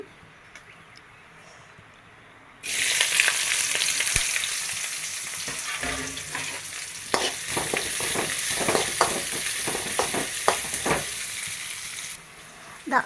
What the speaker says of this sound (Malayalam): ഇനി ഇതിലോട്ട് നമുക്ക് സവാള ഇട്ട് കൊടുക്കാം.